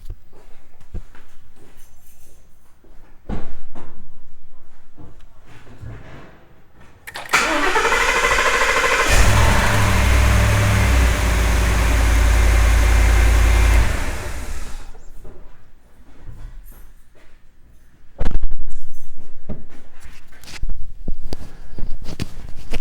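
A Ford Raptor's 6.2-liter V8 cranks and fires up on a jump starter with no battery attached, then settles into a loud, steady idle for several seconds before quieting, with footsteps and handling noises before and after.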